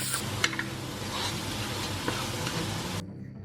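Grated ginger stirred in a curry pan, a steady close sizzle with a few light scraping ticks before it cuts off near the end; no talking.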